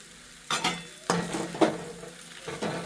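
Chow mein noodles stirred in a hot pan, a soft frying sizzle running underneath as the utensil scrapes and tosses in four distinct strokes, close and fairly quiet, no voices.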